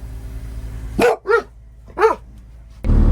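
A dog at a truck stop lets out three sharp barks in a row, loud and close, with a low background hum before a burst of noise at the end.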